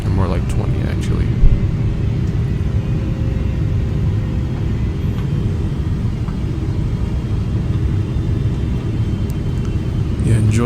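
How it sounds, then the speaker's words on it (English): Inside the cabin of a Singapore Airlines airliner on approach to landing, a loud, steady low engine and airflow roar rumbles continuously with no break. "You'll see right when we're about to touch down in about 10 seconds."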